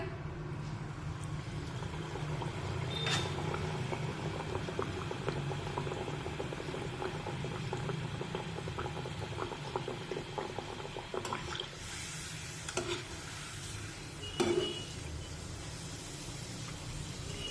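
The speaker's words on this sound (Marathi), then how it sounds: "आता तेलामध्ये आणखीन एक पुरी तळून घेऊया" Wheat-flour puri deep-frying in hot oil, a soft, constant bubbling sizzle with a few sharp clicks and a brief louder burst near the end.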